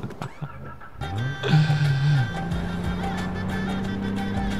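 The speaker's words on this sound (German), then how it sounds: "Ah, das Auto fährt weiter." A car in the video game Far Cry 4 starts up and drives, its engine revving into a steady mid-pitched hum that holds close and loud after a brief rising surge.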